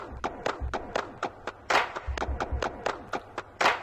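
Sampled hand claps are triggered on an MPC in a rhythmic pattern, crisp sharp claps repeating at a steady beat with some deeper thumps underneath, close and dry, with no talking.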